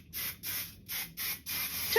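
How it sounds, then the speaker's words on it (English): Short bursts of hair spray aimed at thinning hair after powder has been applied, five quick hissing sprays in an even rhythm, close and fairly loud, with a brief breath at the end. "you want to just do a little spray"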